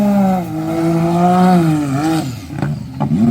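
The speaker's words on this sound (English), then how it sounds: "Turbo noises." A modified off-road UTV at a truck and quad bounty race, heard up close as a loud, smooth engine drone with a rising then falling whine, then sharp bursts and flutter as the turbo releases.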